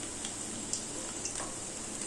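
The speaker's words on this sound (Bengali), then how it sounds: "খুন্তি দিয়ে নেড়েচেড়ে 30-40 সেকেন্ড ধরে ফোড়নটা ভেজে নিলাম" Spices tempering in hot oil in a pan, stirred with a spatula while cooking moong dal with hilsa fish head, give a steady low sizzle with faint ticking scrapes, close and fairly quiet, no talk.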